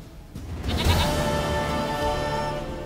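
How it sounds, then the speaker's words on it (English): Goat in The Witcher 3 video game bleating one long wavering call over a game background of low ambient rumble, with no speech. "Goat of mine, dearest, sweetest goat."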